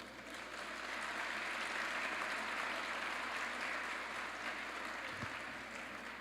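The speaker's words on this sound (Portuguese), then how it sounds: "Palmas para vocês aí." Dense, steady applause from a crowd at a lecture, sustained for several seconds at a fairly even level, heard somewhat distantly.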